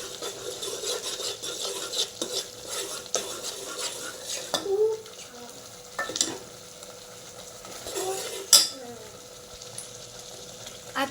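A masala mixture roasts in oil in a pan for an egg dish, with soft sizzling under repeated stirring scrapes and occasional clinks of a spoon against the metal.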